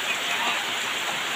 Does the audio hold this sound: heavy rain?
yes